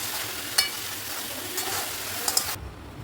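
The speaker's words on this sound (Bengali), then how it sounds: "গরম মশলাটা দিয়ে দুটো একটু নাড়াটা করে আমি নামিয়ে নেবো" Garam masala and ghee are stirred into cooked banana flower with prawns in a pan, a soft steady sizzle with a few light clinks of the utensil against the pan before it cuts off.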